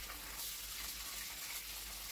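Red lentils and bulgur are rinsed under running water, a soft steady hiss of flowing water, faint and continuous with no talking.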